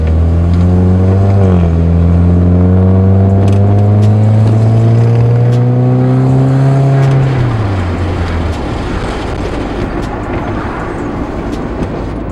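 A Honda Civic with a Yonaka Motorsports catback exhaust revs loudly, the deep engine tone climbing and holding before dropping back to a rumbling idle, close and alone.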